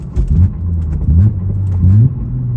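A Lexus IS250 with a manual six-speed and mid pipe exhaust blips in three quick rev-matching revs, each rising then falling, over a low rumbling idle close by, engine still cold.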